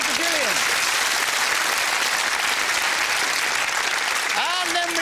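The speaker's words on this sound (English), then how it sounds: "Round of applause for Gillian." Studio audience applause for a contestant on the UK TV game show Whittle, a dense steady clatter of many hands lasting throughout, with faint whoops or cheers rising near the start and end.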